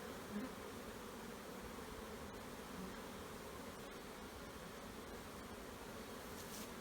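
Honey bees working a heavy ivy flow on an October afternoon around hives, a faint, continuous swarm-like buzz holding steady throughout, with a single brief spoken word near the start.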